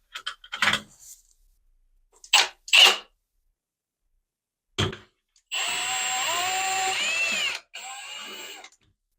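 A power screwdriver tightens screws on a Delta shower trim kit, giving a short whirring burst of several seconds after a few brief clicks and handling knocks, close and moderately loud, with a shorter final burst.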